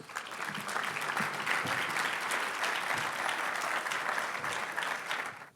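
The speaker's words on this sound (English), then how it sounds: "Let's give a round of applause as they come to the stage to assist with tonight's presentations." A large banquet audience at an annual Urban League dinner gives sustained, dense applause that holds steady for several seconds and fades at the end.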